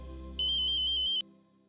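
A phone rings with a short, bright electronic ringtone melody lasting under a second, sounding over a soft background hum.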